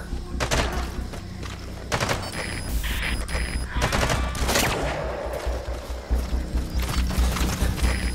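A volley of gunshots in Metal Gear Solid V: The Phantom Pain, several sharp cracks and thumps scattered over a few seconds at moderate distance, with rumbling ambience and faint voices in between.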